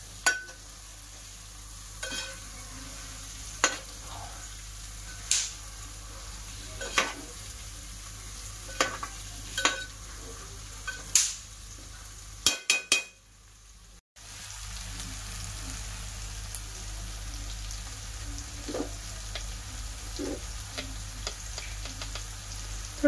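Boiled, oil-fried eggs stirred into biryani gravy in a pan, giving a steady low sizzle with scattered spoon clinks and scrapes, a brief drop to near silence midway, then a fuller frying hiss.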